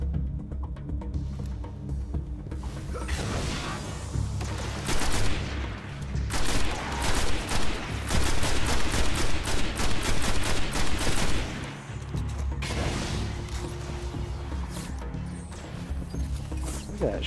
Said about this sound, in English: Fuck those heat-sinking rifle rounds